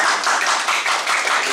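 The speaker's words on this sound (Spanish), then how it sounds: "yo le quiero dar un aplauso aquí a nuestro director" Steady, dense applause from a room full of people during a municipal government commission session, loud and close throughout with no talk over it.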